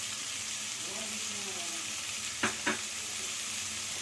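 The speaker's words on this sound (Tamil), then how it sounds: "இதெல்லாம் ஆட் பண்ணி இன்னும் கொஞ்சம் நல்லா ஃப்ரை பண்ணிக்கலாம்" Mutton pieces fry in a pan with turmeric and coriander powder for a mutton eral fry, giving a soft, steady sizzle with two quick clicks near the end.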